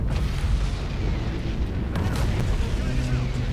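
Frigates ramming a ship in the space strategy game Battlefleet Gothic: Armada, heard as dense rumbling booms and explosive bursts that roll on continuously, with a sharper impact midway, under a speaking voice.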